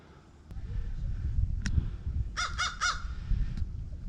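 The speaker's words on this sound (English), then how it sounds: "I hear you, bird, but I don't see you." Crow cawing in a run of three quick harsh calls near a Florida state park campground, with a single sharper call shortly before, over steady outdoor background noise.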